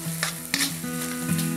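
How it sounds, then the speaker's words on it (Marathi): Finely chopped onion sautéing in a pan for chana masala, a steady sizzle with a few spatula stirs and scrapes, close and moderately loud with no voices. "बारीक चिरलेला कांदा, हे सगळं व्यवस्थित परतून घ्यायचं"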